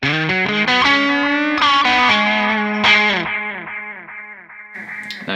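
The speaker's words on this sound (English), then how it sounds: "Let's do a simple delay with the yellow fall." An electric guitar runs through a simple delay from a Yellow Fall pedal, playing a loud sustained melodic line whose notes trail and repeat, the echoes fading out over the last couple of seconds.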